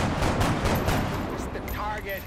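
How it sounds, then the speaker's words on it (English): Rookie soldiers fire weapons during a base defense battle in the video game XCOM Enemy Within, a dense continuous volley of gunfire and impacts filling the whole stretch at steady loudness. "The rookies are firing."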